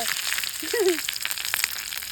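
Mustard seeds crackle and spit in hot oil with a steady sizzle, close up, with curry leaves added, and a brief voice sound rises over it.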